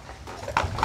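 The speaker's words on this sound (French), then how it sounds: "deux jeunes percherons, et qui sont là pour tracter cette voiture hippomobile" Hooves of two young Percheron horses pulling a horse-drawn carriage give a couple of close, soft clip-clop steps.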